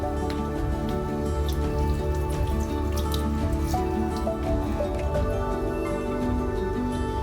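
Water trickles from a twisted bottle cap that works as a small hand-washing tap at home, giving a steady patter of close drips under soft background music.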